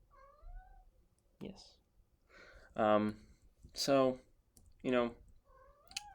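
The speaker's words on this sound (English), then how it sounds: "If you can hear my cat in the background" A pet cat named Big Nub meows several times, drawn-out rising and falling calls close to the microphone in a quiet room, with a brief spoken word in between.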